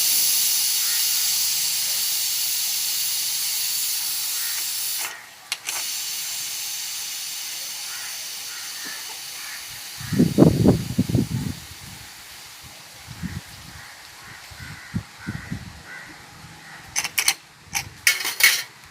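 A kitchen pressure cooker used for frying jackfruit seeds releases a long, steady hiss of steam that slowly fades. Metal clinks, lid handling and pot clatter follow in close, irregular bursts.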